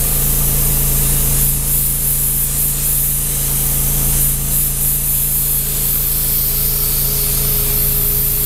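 Spray paint mists out in a light, steady hiss while shadow lines are laid down, continuous and close for the whole stretch with no talking.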